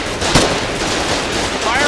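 Tank gunfire in the war game Foxhole, one sharp loud blast early on over a dense, continuous rumble of battle noise and rattling fire that carries on to the end.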